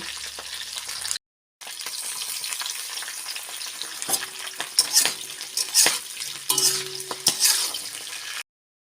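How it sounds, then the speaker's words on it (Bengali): Cauliflower florets and Malabar spinach stalks frying in hot oil, a loud continuous sizzle with spatula stirs and bumps and one short silent gap near the start. "আর ফুলকপিগুলো ভেজে নেব। ফুলকপির সঙ্গে পুঁই শাকের ডাঁটাটাও ভেজে নেব।"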